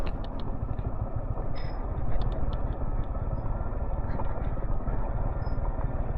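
A Yamaha R15 motorcycle engine runs during off-roading on a hill route, a steady low rumble mixed with rough road noise that continues throughout without a break.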